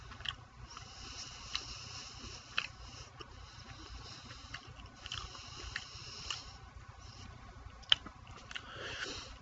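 Someone chews a Jimmy Dean bacon breakfast bowl close to the mic. The moist, quiet chewing comes with soft smacks and small clicks, faint and irregular, with one sharper click near the end.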